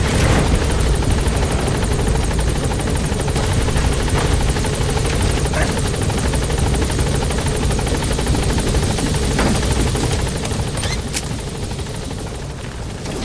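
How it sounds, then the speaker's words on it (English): A support helicopter in Metal Gear Solid V: The Phantom Pain arrives at the landing zone, its rotor noise a loud, steady, close-up drone that fills the whole stretch and eases slightly toward the end. "Support helicopter has arrived."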